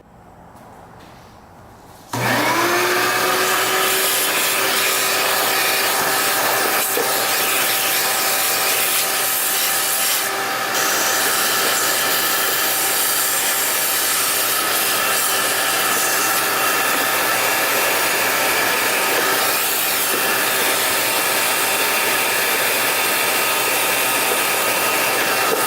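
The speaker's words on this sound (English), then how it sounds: "let's get all that stuff vacuumed out of there" A vacuum cleaner cleans out the air filter housing of a Yamaha YZ490 dirt bike that sat for 13 years. It switches on abruptly after a quiet start, then holds a loud, steady whine with occasional shifts as the nozzle moves.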